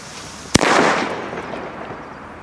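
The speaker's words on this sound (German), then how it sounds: "So, kubische Kanonenschläge von Weco." A Weco cubic firecracker explodes once with a sharp, loud bang, followed by a rushing, crackling wash of echo that slowly fades away. No voices.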